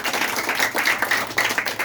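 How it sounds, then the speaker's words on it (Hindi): An audience claps in steady unison at a school gathering, a dense continuous patter of hands that stays at an even level, with no voices over it. "तो इनके लिए ताली बजा दीजिए।"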